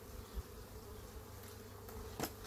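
Honey bees buzz around a hive in a steady, close, continuous hum, with a few brief louder passes as individual bees fly near.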